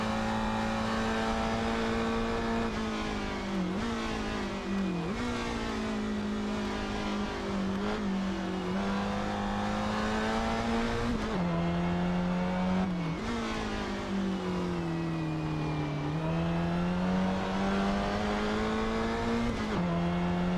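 A 1960s GT race car in Assetto Corsa at a historic Goodwood circuit roars continuously at high revs, pitch rising through each gear and dipping sharply at shifts and braking over a steady, loud engine drone.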